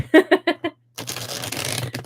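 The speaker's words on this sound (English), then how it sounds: "Okay, so I'm just giving this a good old shuffle. It's a standard size tarot deck." A standard-size tarot deck gets shuffled close up: four quick riffling bursts, a short pause, then a longer continuous flurry of cards.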